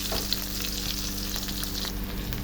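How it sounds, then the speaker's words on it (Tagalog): Oregano fries in a hot pan as part of a coconut seafood dish, giving a steady, close crackling sizzle with fine sputtering pops, continuous and alone without talk. "matapos natin mailagay yung ating oregano at na-fry na nga siya"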